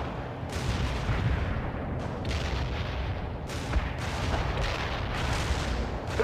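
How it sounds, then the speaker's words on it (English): AT-4 launcher firing in World in Conflict amid a Soviet assault in Washington: repeated booming blasts and gunfire over a dense rumbling battle din, several sharp bursts spread through the clip, no talk. "Launching AT-4 at the target."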